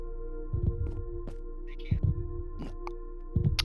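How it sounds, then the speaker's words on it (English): In Minecraft, the Warden's heartbeat pulses as a few deep, muffled thumps in a slow, irregular rhythm over a low steady hum, with faint game noises between beats. "Aiden, I think I can hear my heartbeat."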